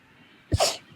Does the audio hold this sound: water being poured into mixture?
no